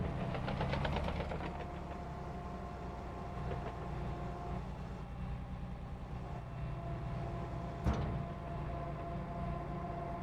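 Heavy machine grading out a ditch at a job site in Farming Simulator 22: a steady, close, knocking diesel engine rumbles throughout, with one brief clank near the end.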